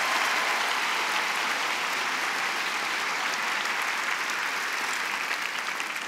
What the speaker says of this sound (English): a round of applause for Eleanor.